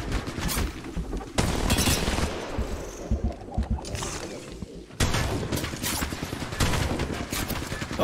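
Gunfire in the mobile game Apex Legends Mobile crackles in dense rapid bursts with sharp impacts and mechanical clicks, loud and continuous across a busy fight.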